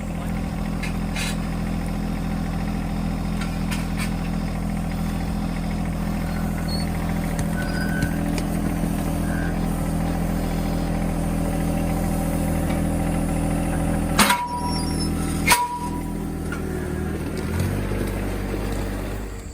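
A John Deere 1025R compact tractor idles steadily nearby while a box blade is hitched on, giving a continuous low engine drone with a couple of sharp metallic clanks late on.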